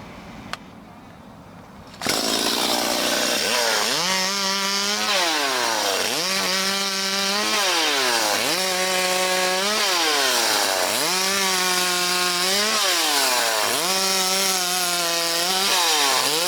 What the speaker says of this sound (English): modern chainsaw, wonderful thing really